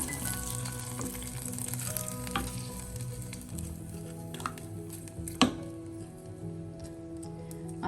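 Cooked pumpkin and cowpea erissery sizzles faintly in a pan as it is stirred and mixed with a spoon, soft scraping and bubbling with one sharper clink near the end.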